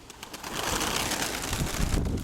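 Pigeons coo softly amid a steady rustle and fluttering, a flock close by with no one talking.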